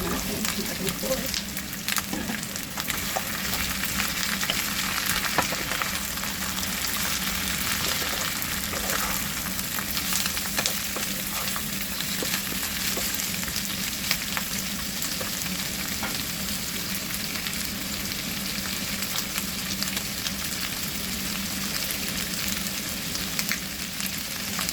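Pork cubes fry in a pan with red onion, a constant soft sizzle and crackle with faint stirring, heard close and moderately quiet throughout.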